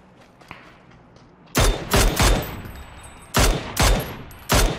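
Gunfire in the battle royale game PUBG, where an M4 rifle is in play: after a quiet stretch, several sharp, loud shots crack out in separated bursts, some doubled and some single.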